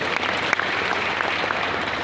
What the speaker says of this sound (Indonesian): Kita berikan tepuk tangan sekalian teman-teman.